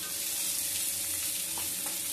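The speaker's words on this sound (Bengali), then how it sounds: "এবারে এই পেঁয়াজ ভাজার মধ্যে দিয়ে দিচ্ছি টমেটোটা।" Sliced, deseeded tomato drops into frying onions for a brinjal and mourola fish curry, giving a loud, continuous close sizzle with faint stirring.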